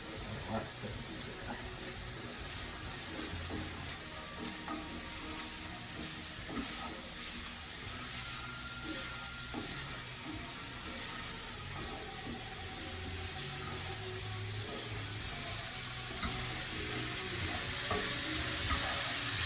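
Thick cut bacon frying in a pan, a steady dense sizzle with faint clinks and scraping, running continuously at moderate level and growing slightly louder toward the end.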